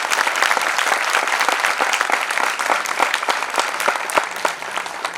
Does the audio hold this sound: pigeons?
no